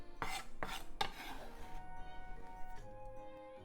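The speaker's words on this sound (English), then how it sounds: "Let's put it in the frying pan." Wakame seaweed dropped into a frying pan, giving a few sharp metallic clatters and scrapes up close at the start, then a low steady kitchen background.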